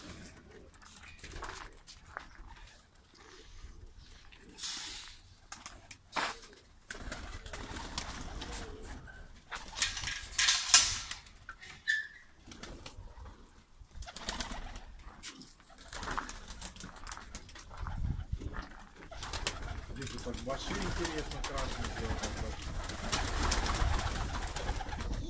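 Baku broad-tailed pigeons coo in a loft amid bursts of wing flapping and rustling, with irregular loud and soft moments and a rising noisy background toward the end.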